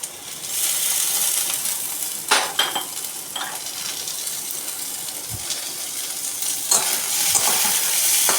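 Sweet corn stuffing for tricolour momos frying lightly in a pan, a bright continuous sizzle with scraping stirs and a few metallic spoon taps, close and fairly loud.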